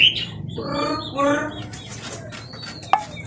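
A bird chirps and squawks close by in a series of short, tonal calls, with a sharp click near the end and background noise.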